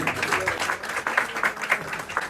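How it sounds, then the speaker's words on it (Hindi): Audience applause greeting someone speaker at a spiritual address in Hindi, a steady wash of many hands clapping at moderate distance, fairly soft and continuous for a couple of seconds. "बहुत जोरदार तालियां।"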